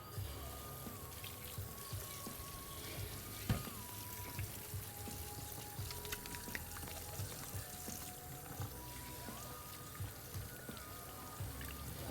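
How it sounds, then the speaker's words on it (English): Hands are washed under running tap water at a sink, a faint, steady splashing flow with small drips and knocks, heard quietly and without speech. "then I'll wash my hands one last time"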